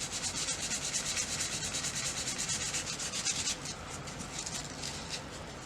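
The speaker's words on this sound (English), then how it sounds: "I'm going to go ahead and sand the sides too." Sandpaper rubbed briskly along the sides of an Osage orange wood bow limb, a close, steady rhythmic scraping with regular strokes that softens slightly near the end.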